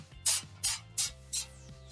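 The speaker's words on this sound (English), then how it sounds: "So I'm just going to spray it a little bit." Kitchen cooking spray sprayed onto foil, four short hissing bursts in a quick, even rhythm, close but fairly quiet.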